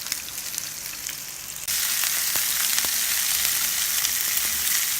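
Pork chops frying in a pan, a steady close sizzle that grows louder partway through, with a few faint clicks and no talking.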